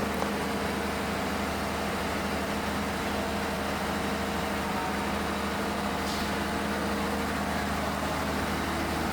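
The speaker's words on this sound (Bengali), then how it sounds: "এটি হচ্ছে জেনারেটর ইঞ্জিন।" Generator engine of the new Sundarbans tourist ship MV Coastal Cruise running in its engine room, a loud, continuous diesel drone with steady low rumble and dense mechanical hiss, with no other sounds.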